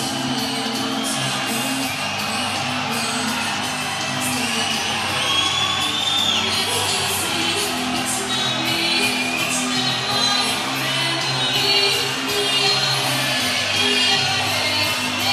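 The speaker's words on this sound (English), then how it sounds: "Listen to that crowd reaction." A large crowd at an amateur middleweight title fight cheers, whoops and yells steadily as an undefeated fighter walks to the cage, a dense sustained roar with no pauses.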